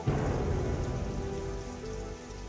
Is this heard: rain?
yes